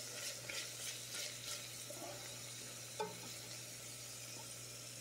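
Garlic and onions frying in a pan, a quiet, even sizzle with a low steady hum beneath, a few soft stirring scrapes early on and one brief utensil clink midway, no talk.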